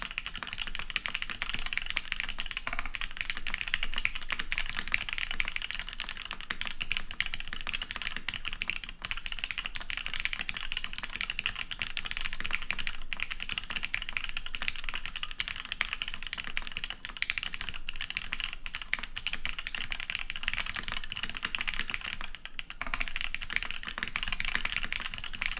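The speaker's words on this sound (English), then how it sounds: "I'm over here clacking away." Fast continuous typing on a HeartbreakTKL mechanical keyboard, dense clacky keystrokes close to the microphone, steady and unbroken with no talking.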